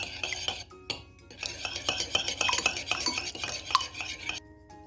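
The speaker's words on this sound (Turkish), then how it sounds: "Yumurtaları güzelce çırpalım." Two eggs are whisked in a bowl for a sauce, making rapid, continuous scraping and clinking strokes up close with brief pauses.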